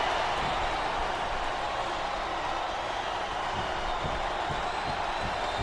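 Arena crowd noise from the SmackDown vs RAW 2008 wrestling video game, a steady loud roar of a capacity audience at WrestleMania 23, continuous and dense throughout with no voices standing out.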